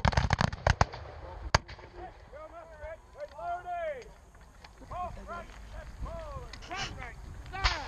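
Muskets fire in a quick ragged volley at a Sealed Knot battle reenactment, several sharp cracks close together at the start, then another single shot, followed by shouted commands and voices.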